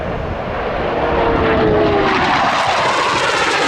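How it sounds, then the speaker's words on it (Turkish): A Hürjet jet aircraft flies maneuvers overhead in Egypt with a loud, steady engine roar whose whine slowly falls in pitch, and no voices are heard. "F-16'ları bile kıskandıran manevraları ve o muhteşem sesiyle işte bu güzel uçak Hürjetimiz karşımızda."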